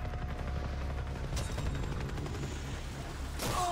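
A helicopter in the shooter Far Cry 3 drones with a steady low rotor thrum, while a few sharp bursts of distant gunfire crack over it.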